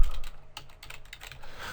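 A search query is being typed on a computer keyboard: a quick, close run of crisp key clicks at a steady, uneven rhythm, with no voice over it.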